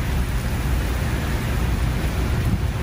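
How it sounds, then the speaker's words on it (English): Monsoon thunderstorm rain pours steadily at Civic Center Mall, a constant dense hiss of rainfall with low rumbling underneath, loud and unbroken throughout with no voices. "Another nice monsoon storm."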